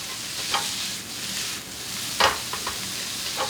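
Curry-flavoured Shanghai yakisoba stir-fried with garlic chives and sesame oil: a steady close sizzle in the pan, broken by a few sharp spatula scrapes and clacks as the noodles are tossed.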